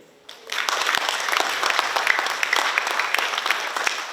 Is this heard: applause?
yes